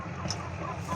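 Giant broiler chickens clucking briefly at moderate distance, with a busy outdoor background hum underneath.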